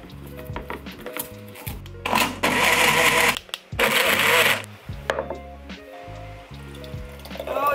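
Water is poured into a thick homemade green smoothie in two short, splashy bursts, set against steady background music.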